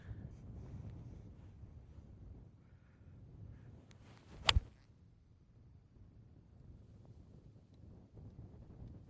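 Gusting wind buffets the microphone on a golf course during Open qualifying, a low rumbling roar that rises and falls, with a brief sharp knock midway and no talk.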